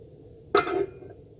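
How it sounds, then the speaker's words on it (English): A pan being set down on the stove to heat, a single short metallic clank with a brief ringing tail in an otherwise quiet kitchen. "Now for this, I will be heating my pan."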